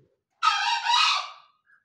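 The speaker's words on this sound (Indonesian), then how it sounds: "Ini ya jantannya juga gacor teman-teman untuk burung cucak hijau ini." A male green leafbird (cucak hijau) in an aviary gives one loud, bright, warbling call lasting about a second, followed by a faint short chirp.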